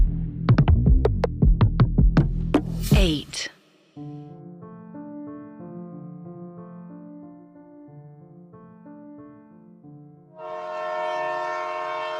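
A train sound effect for a horror story: a train horn blasts in repeated loud pulses, then rail carriages rumble along with a tonal hum, and a brighter mechanical drone swells near the end.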